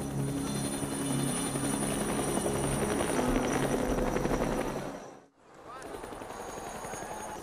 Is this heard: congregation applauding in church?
no